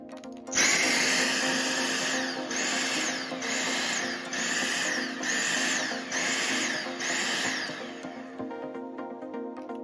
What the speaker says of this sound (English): we're gonna do our stick vac next